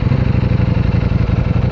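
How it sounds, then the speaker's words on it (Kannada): A 2023 Ducati Panigale V4 S on its stock exhaust idles close by, giving a steady, rhythmic low throb with even pulses and no voices over it. "ಗಾಡಿನ ಸ್ಟಾರ್ಟ್ ಮಾಡಿ ಒಂದು ಸಲ ಎಕ್ಸಾಸ್ಟ್ ನೋಟ್ ಕೇಳೋಣ."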